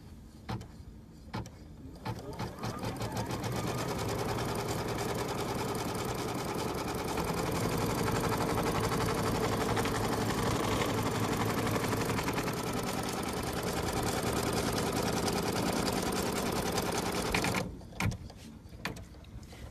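An embroidery machine stitches an appliqué design, a steady mechanical whir with rapid needle rhythm running loud and continuous for most of the time before stopping near the end.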